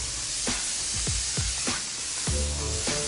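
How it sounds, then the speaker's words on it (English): A spray gun lays car paint in a steady, loud hiss that runs throughout, broken by several low thumping sweeps spaced about half a second apart. "then there's the spray, there's the paint that comes out"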